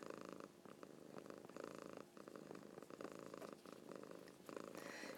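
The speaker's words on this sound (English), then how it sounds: "The cat is purring" A cat purrs steadily and close, a soft rhythmic rumbling with regular breath cycles at very low level, alone without talk.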